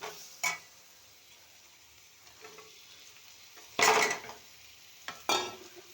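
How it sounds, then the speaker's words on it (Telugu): Okra pieces are tipped into a pan with fried dried-shrimp curry spices and stirred, giving a soft, steady sizzle broken by a few sharp clinks and scrapes of a utensil against the pan. "ఇప్పుడు బెండకాయ ముక్కల్ని యాడ్ చేద్దాం."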